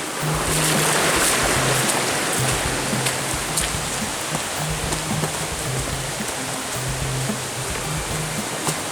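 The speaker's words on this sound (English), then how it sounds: "The water is definitely raging here today" A swollen stream on the Black Forest Trail in Pennsylvania roars past in a steady, broad wash of rushing water, loud and close, with a faint low hum beneath and no voices.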